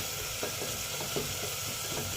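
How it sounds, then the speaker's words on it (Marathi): Onions frying in a pan for a dal khichdi tadka, a steady close sizzle with faint stirring scrapes running evenly throughout. "कांदा थोडासा मऊ होईपर्यंत फ्राय करायचा आहे आपल्याला।"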